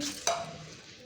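A quiet spoon scrapes and clinks once against a bowl, followed by soft, wet stirring of tomato chutney with cooled tempering that fades out.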